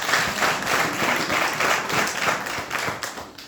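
Dense, sustained applause from an audience at a church sermon or religious gathering, a steady wash of many hands clapping alone throughout.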